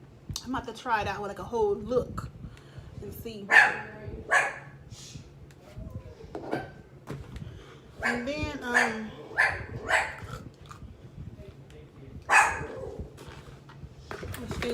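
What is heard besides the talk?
dog barking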